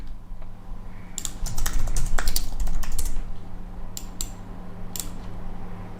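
Rapid clattering keystrokes on a computer keyboard, close up, in uneven bursts with short pauses between them.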